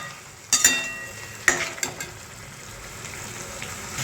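Chicken with ginger, garlic and green chilli paste sizzles in a pan while a spoon scrapes and clacks against it in a few sharp strokes over a steady frying hiss.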